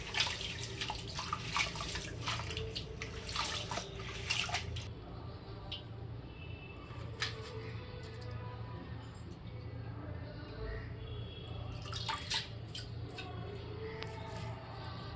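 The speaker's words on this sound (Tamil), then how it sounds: "தண்ணியில் நல்லா அலசணும் மண் இருக்கும்" Spinach greens being rinsed in water to wash off soil, with splashing and sloshing that is busiest at first and then turns into softer trickles and occasional splashes, close by.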